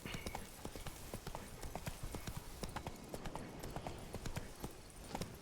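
Steady, quick hoofbeats of the horse Roach galloping in a video game, a continuous rhythmic clip-clop at moderate volume with no talking.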